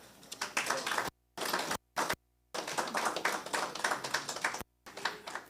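An audience at a memorial lecture claps in quiet, scattered bursts, broken by short silent gaps before the applause picks up again.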